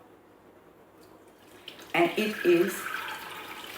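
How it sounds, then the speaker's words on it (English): Cold brew coffee splashes and pours through a strainer into a jug, starting suddenly and continuing as a close, bubbling stream while a person speaks briefly. "use it to line and pour it through, and it goes into the jug"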